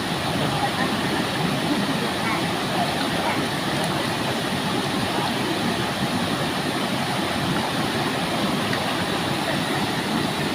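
A waterfall roars as a constant, loud wash of rushing water where children play, with young voices chattering and calling over the steady noise.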